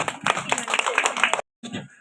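A burst of fairly close clapping from an audience at a flowers day prize announcement lasts under a second and a half and cuts off sharply, followed by a short silence and then a speaking voice.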